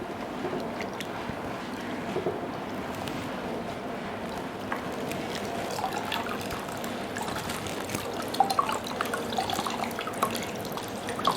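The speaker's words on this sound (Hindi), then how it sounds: "इस पर पट्टी को पूरा गीला कर लेंगे" A cloth bandage about 8 inches wide is soaked in cold water from a fridge bottle, giving soft continuous trickling and dripping with small splashes and no talking.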